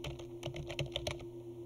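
Quick, uneven taps on a computer keyboard while filling fields in a Word building-block dialog, close and fairly quiet, over a steady electrical hum.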